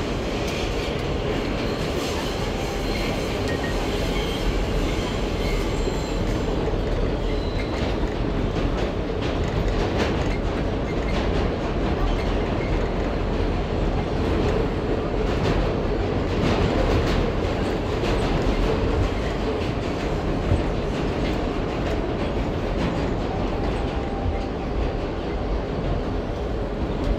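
An NYC subway E train riding toward Queens rumbles steadily, with wheels clattering over the rails and a constant loud interior roar.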